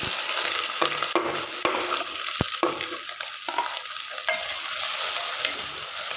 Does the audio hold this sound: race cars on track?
no